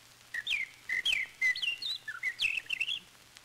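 Blackbird song in a 1934 Danish radio play: a run of short fluting whistled phrases, clear and close, rising and falling in quick succession with no talk over them.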